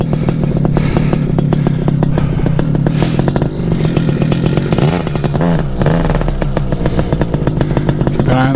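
A paramotor engine and propeller run hard at takeoff, a loud, close, buzzing roar with rattling overtones that stays at high power throughout.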